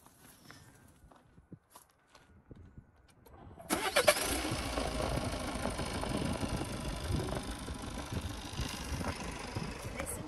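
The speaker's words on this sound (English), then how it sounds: "and I'm going to start the car for you." A DS7 Crossback BlueHDi 180 diesel engine cranks and starts after a few quiet seconds of footsteps and handling, then settles into a loud, steady close idle.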